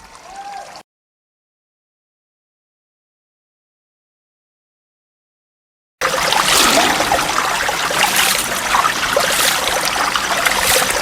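A small stream flows with little water at the Paniyari tourist spot, a steady broadband rush and trickle heard loud and close after a long silent gap.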